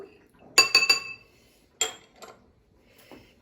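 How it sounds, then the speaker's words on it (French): Spoon clinking against a glass or bowl while stirring salt into water for vegetable couscous, a quick burst of several light clinks, then two or three more isolated taps, close and clear with no talk. "je vais mettre une cuillère à café et demi de sel dans l'eau que je mélange."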